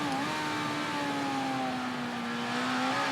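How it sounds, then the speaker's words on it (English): Motorcycle engine in the Ride 3 racing game held at steady high revs with the throttle partly open, a continuous droning whine that dips slightly and climbs again, loud and close with no talking. "some throttle in as well, so we can keep the revs up and don't try and seize the engine"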